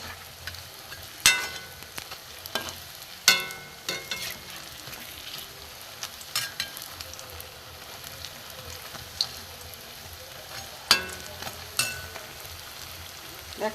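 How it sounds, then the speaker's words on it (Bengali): Drops of motichur laddu batter fry in hot oil, a steady close crackling sizzle broken by sharp clinks and scrapes as the pieces are turned, with no talking. "উল্টে দিয়েছে, আমি উল্টে পাল্টে একটু লাল করে ভেজে নেব।"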